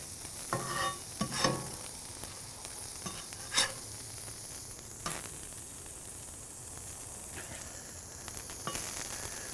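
Plantains sizzle on a grill during a bacon cheeseburger cook, a steady low hiss broken by a few sharp crackling pops, fairly quiet with no voices.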